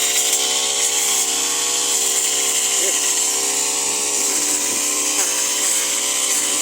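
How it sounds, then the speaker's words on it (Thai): About five grass trimmer engines whine together during a community cleanup, a loud, steady, high-pitched drone, with voices mixed in underneath. "เครื่องตัดหญ้าประมาณห้าเครื่องครับ"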